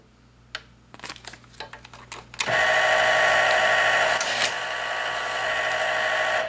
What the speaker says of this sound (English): I'm going to put a label on the bag and move it up 1 inch each time.